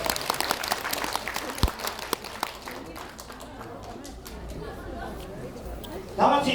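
Scattered clapping at a children's taekwondo demonstration at a daycare, honoring the teacher who set up the breaking boards, sparse and uneven with voices chattering around it and a louder burst near the end.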